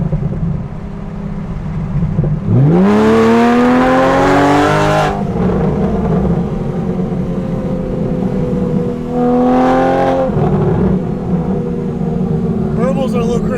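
Straight-piped 3.8L Porsche 911 on a new tune revving hard twice, a long rising wail then a shorter second pull, loud and close with a steady engine drone between bursts and faint talk mixed in.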